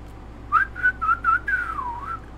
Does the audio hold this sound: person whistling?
yes